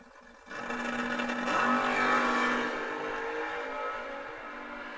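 Two drag racers, a Chevrolet Monza and a Chevrolet Nova, launch side by side at a memorial race, a sustained loud engine roar that swells after a sharp onset and holds steady to the end.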